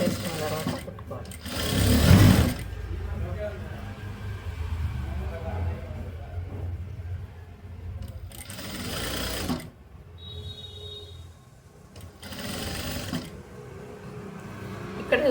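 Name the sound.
sewing machine stitching a blouse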